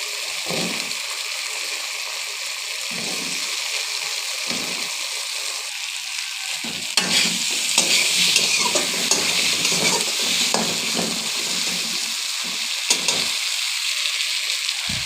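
Potatoes are stirred into a sizzling spice masala in a pan, with a quiet hiss punctuated by occasional spatula scrapes, then a louder, denser fry as they settle into the oil.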